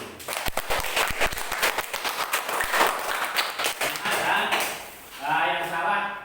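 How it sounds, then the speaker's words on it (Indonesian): A classroom group claps hands in applause for correct answers during a teacher training session, a burst of scattered sharp claps that fades, followed by a voice speaking at the end. "Untuk yang benar semua kita berikan aplaus tepuk tangan dulu."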